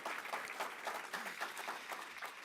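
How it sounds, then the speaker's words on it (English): A crowd at a Rochester airport project announcement applauds Governor Kathy Hochul, a brief, full burst of steady clapping with no voices over it. "let's give a big round of applause to our great Governor,"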